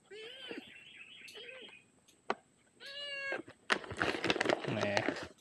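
A cat meows several times in short, high calls at close range, then a person speaks in a quiet indoor space.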